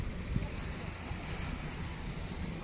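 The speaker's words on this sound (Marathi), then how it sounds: "इकडनं पाणी वाहत राहतं" Water flowing down stone steps at the Mini Balaji temple in Wai, a steady, even rushing wash that holds at one level throughout with no breaks.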